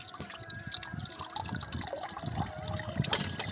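Old, degraded transmission oil drains from the underside of a Ford 3610 tractor, a continuous liquid gush and trickle with dripping, fairly close and steady throughout.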